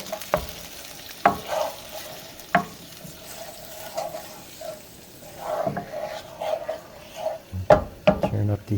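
Clam sauce for linguine sizzles and bubbles in a pan with a steady hiss, broken by clinking scrapes of a utensil stirring at irregular moments.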